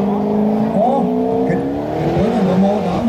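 A turbocharged 600 hp Corvette automatic with a removable roof revs loudly up close, its engine note sweeping up and down in rising and falling pitch, with a voice speaking over it at times.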